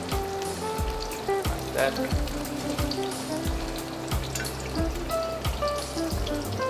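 Celery sizzles in olive oil in a pan, a steady close frying hiss broken by regular soft knocks and scrapes, with a few brief spoken words.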